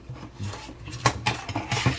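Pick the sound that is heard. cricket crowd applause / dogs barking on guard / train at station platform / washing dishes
washing dishes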